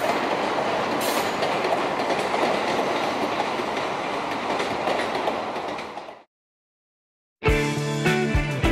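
A JR West 221 series electric train on the Osaka Higashi Line rumbles past nearby with rhythmic wheel clatter, loud and steady, before the sound cuts off abruptly.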